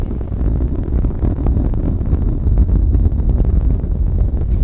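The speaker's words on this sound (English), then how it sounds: "Engines beginning to rev up." Space Shuttle Discovery's engines roaring during launch as it throttles up in flight, a deep, continuous rumbling roar with buffeting, wind-like noise, loud and unbroken.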